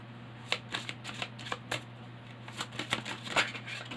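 Tarot cards are shuffled by hand in a quick run of soft riffling slaps and flutters, close and fairly quiet, with no talking.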